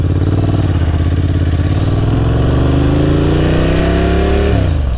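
A Ducati Sport Classic 1000 engine accelerates hard and close, its rising howl climbing steadily in pitch before dropping suddenly near the end as the rider shifts.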